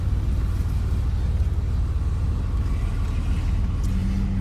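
Interior drone of a Porsche 964 driving on new tires, a steady low rumble of engine and road noise with a faint higher whine briefly rising near the end.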